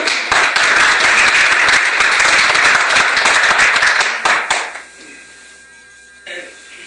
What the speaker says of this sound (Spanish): Démosle un aplauso a Roberto